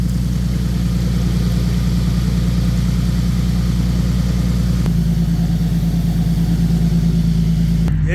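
A 2015 Nissan 370Z under repair after being bought from Copart idles close by with a steady, throbbing low rumble, its engine note shifting slightly partway through and holding loud and even throughout.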